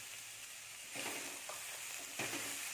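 Grated coconut and sugar sautéed in a pan for Malabar unnakkaya, a steady soft sizzle with a few louder scraping strokes as it is stirred, faint and without voices.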